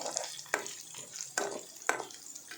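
Split black gram and chana dal fry in hot oil in a pan for tempering. A soft, steady sizzle is broken by three sharp scraping stirs, close and with no talk.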